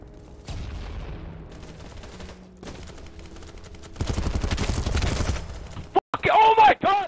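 Rapid machine gun fire in a video game, a dense burst of shots mid-clip amid other game sounds, with a voice talking near the end.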